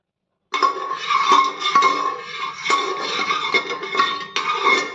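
Oil swirled around inside a pressure cooker in a home kitchen, heard as continuous metallic scraping and clinking of the pot, close and fairly loud, with sharper knocks recurring through the stretch.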